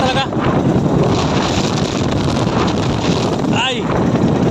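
Strong wind buffets the microphone in a loud, continuous roar during heavy rain, with a voice speaking briefly over the gusts.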